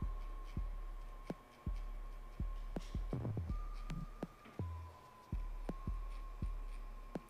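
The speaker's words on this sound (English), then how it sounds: "Just make sure that you're using the corners of the clipper in the tighter areas." An electric hair clipper hums at a steady, quiet pitch during a mid fade haircut, starting and stopping briefly. Soft, regular thumps run beneath the hum, with no voices.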